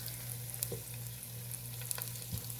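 Eggplant and chickpeas frying in a masala, a quiet steady sizzle over a low hum with a few faint stirring clicks, no speech.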